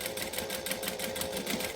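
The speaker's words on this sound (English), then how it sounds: "I'm just going to top stitch this to make it pretty" A sewing machine runs steadily while top stitching a wallet's pen pocket, a fast even rattle of needle strokes, close and continuous with no talk.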